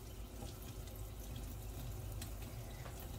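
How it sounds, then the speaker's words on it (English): Cold tap water running steadily into a dish soap bottle in a sink, a faint, even rush of liquid that fills and trickles without a break. "Now I put in cold water"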